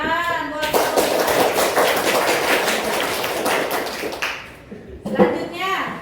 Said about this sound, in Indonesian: Tepuk tangan buat.